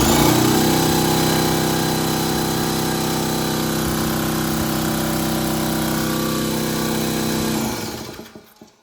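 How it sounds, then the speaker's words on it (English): A DeWalt DXCM271 air compressor runs loudly and close by with a steady motor drone and strong harmonic hum. It holds for about seven and a half seconds, then spins down and falls quiet. "That, my friend, is a working air compressor."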